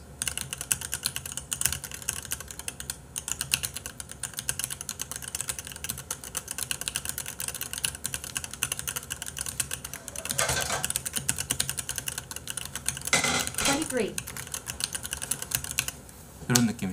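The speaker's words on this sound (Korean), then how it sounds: "타이핑 소리 개 좋아요." Fast, continuous clicking of keys on a mechanical keyboard, close and crisp. Keystrokes patter steadily with occasional louder clacks and faint voices in the background.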